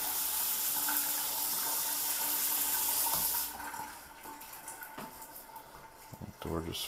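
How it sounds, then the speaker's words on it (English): A hotel shower at a Home2 Suites in Baton Rouge runs with a strong, steady hiss of water for about three and a half seconds, then cuts off, leaving faint drips and small bathroom noises. "It looks like a pretty good flow in the shower."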